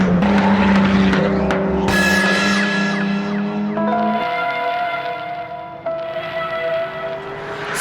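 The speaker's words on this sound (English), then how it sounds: "And check out Joe Sim and his amazing Turbo Lab NSX." A Honda NSX race car engine, turbocharged, screams at high revs on a road racing track at Miller Motorsports Park, pitch rising and shifting through gears, loud and close with no talking.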